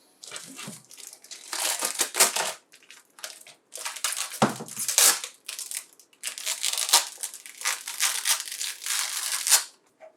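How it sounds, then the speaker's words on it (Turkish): A protective strip is peeled off a Dymo LetraTag 200B label maker, giving close, loud crinkly tearing and crackling bursts in several uneven pulls. "Cihazımızın üzerindeki şeritini söktüm"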